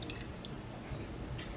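About a quarter cup of melted coconut oil is poured into vegan spiced sourdough waffle batter, making a soft, close, wet squishing and dripping sound for a moment in a quiet kitchen.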